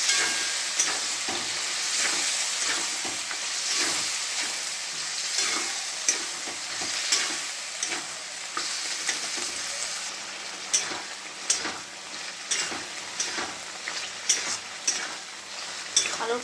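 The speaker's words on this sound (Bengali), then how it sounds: "ঢেলে বাটনা দিয়ে দিয়েছি এবার ভালো করে কষে নেব আলুটা" Potatoes fry in a pan with turmeric, salt and spice paste while a spoon stirs them, giving a steady close sizzle broken by repeated scraping strokes that grow sharper toward the end.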